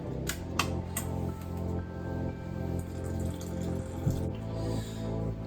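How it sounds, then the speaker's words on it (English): Gluten-free saison wort recirculating in a whirlpool after the burner is shut off, a steady close rush of flowing liquid with a low hum and occasional clicks, no talking. "we are going to recirculate so that we get a nice, what is called a whirlpool"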